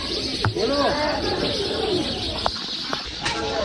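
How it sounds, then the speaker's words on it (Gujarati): Pigeons perched on a rooftop coo softly nearby, their low calls mixed with a few short chirps and a steady outdoor hum under a person's voice. "જુઓ અહીંયા કબૂતર આપણા બેઠા છે"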